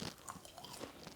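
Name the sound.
biting into something crunchy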